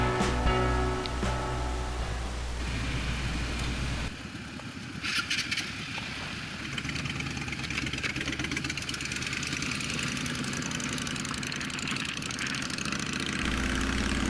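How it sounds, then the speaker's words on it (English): A Vespa GTS 300ie scooter engine drones steadily while riding on a road trip, a continuous close motor hum with wind rush and a brief dip in the middle, no speech. "Benji's bike, a 2008 Yamaha FJR 1300, and me with my good old Vespa GTS 300 IE."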